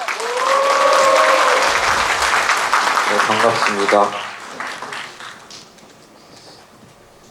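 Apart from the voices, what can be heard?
applause and cheering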